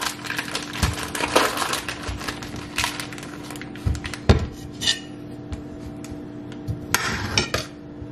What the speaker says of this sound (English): we're gonna get the smoked sausage cut up.